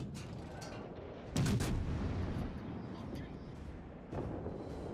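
Guns of the Atago cruiser fire in World of Warships, with two booming salvos separated by a few seconds and a continuous rumbling backdrop under a voice talking.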